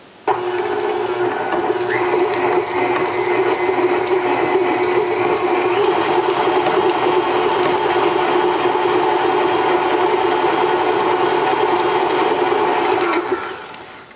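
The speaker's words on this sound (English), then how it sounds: "I'm just going to mix this a little bit until that cream cheese is nice and smooth and creamy." A stand mixer's paddle beating softened cream cheese, a steady motor whine with a constant hum that shifts pitch slightly partway through, running close and loud for most of the stretch before cutting off near the end, with no voices.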